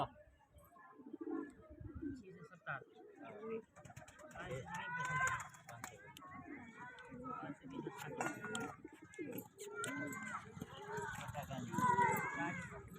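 Soft pigeon coos repeat in the background while someone talks over them, with occasional light tapping nearby.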